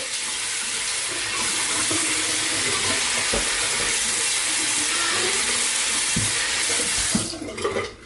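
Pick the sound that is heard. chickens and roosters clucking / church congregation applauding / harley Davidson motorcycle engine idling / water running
water running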